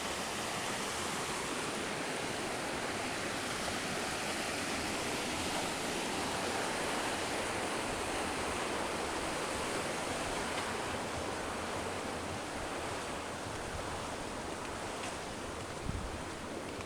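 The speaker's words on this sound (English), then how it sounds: "it's so nice to see all this water roaring through here like this" Fast water roars steadily through a creek along a park trail at Mission Trails Regional Park near Mission Dam. The rushing is loud and close, with a dense, unbroken hiss that holds for the whole stretch and no talking.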